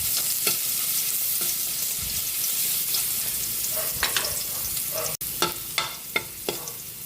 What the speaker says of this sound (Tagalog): Lagay na rin natin yung garlic, bawang.